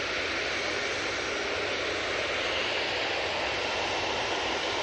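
Airliner inbound from JFK to Manchester Airport, a steady broadband roar of jet engines holding at constant loudness throughout, with no voices.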